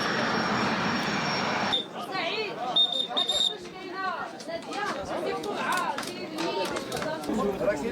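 A helicopter evacuates injured earthquake victims from the damaged mountain village of Talat Yacoub in Morocco to hospitals in Marrakech. Its loud, steady engine and rotor roar fills the first two seconds, then drops away beneath overlapping voices and crowd chatter.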